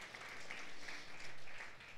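A church congregation in Lucban claps together during a worship service, producing a dense, steady wash of applause that rises and dips slightly for two seconds without clear voices.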